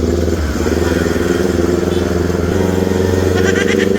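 A small motorcycle engine runs steadily and close, a continuous droning hum with light rattling and a brief rev near the end.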